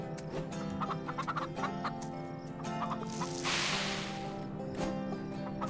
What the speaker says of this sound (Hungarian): Csirkék!